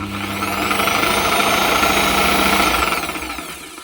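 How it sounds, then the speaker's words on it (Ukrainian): A corded reciprocating saw runs at its minimum speed, giving a steady, loud buzzing drone with a rapid vibrating pulse that holds for a few seconds before easing off at the end. "А тепер мережева на мінімальних обертах."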